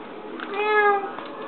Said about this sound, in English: Why are you feeding the cat inside?